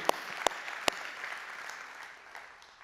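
A church congregation applauds during a Spanish-language sermon, a few sharp claps standing out at the start before the clapping settles into a softer, steady patter that slowly fades.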